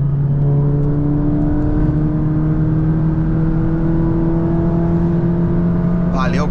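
A modified 300-horsepower Volkswagen Jetta GLI pulls uphill with a loud, steady engine drone that holds a strong, even tone throughout.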